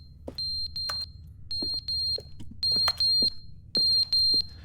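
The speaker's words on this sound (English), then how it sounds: "That beeping is driving me nuts." Repeated electronic beeping in the video game The Stanley Parable Ultra Deluxe, short tones in uneven bursts over a low ambient hum, loud and close.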